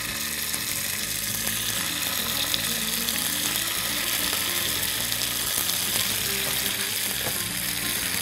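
Chicken kebabs fry in ghee in a pan, giving a loud, steady, continuous sizzle and crackle that runs unbroken throughout with no talking.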